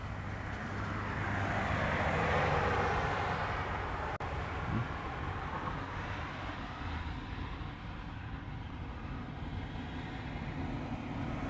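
An airliner landing on runway 4 Left at Honolulu, a broad distant jet engine roar swelling and then easing into a steady rumble as the plane passes and rolls out, with no talk.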